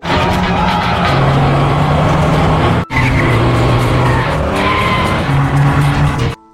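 A borrowed car in a street race, with loud sustained tire squeals and skidding over a roaring engine, a brief cut midway, then more squealing before it stops abruptly.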